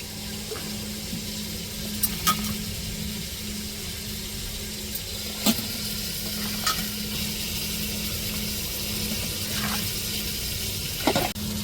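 Soy beans are added to a pan of tomatoes and green chillies and stirred for a vegetable biryani. A constant frying sizzle runs throughout, with occasional light clicks from stirring.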